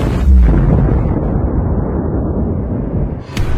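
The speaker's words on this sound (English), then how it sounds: "a massive explosion thundered, obliterating the arena completely" A massive explosion in a fighting arena booms loud and close, a heavy low rumble that swells at the start and rolls on steadily for several seconds before a sharp crack near the end.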